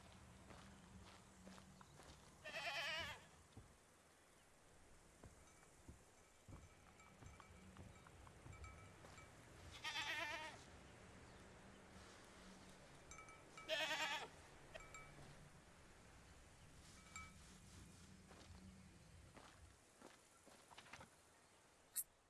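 A goat in the video game Mundaun bleats three times, wavering cries spaced several seconds apart over soft footsteps and a faint ambient drone.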